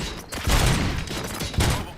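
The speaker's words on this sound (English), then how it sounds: "Gunshots? What's going on?" Gunfire from the video game Robocop: Rogue City, a dense fusillade of rapid shots with heavy low thumps, loud and sustained across the moment.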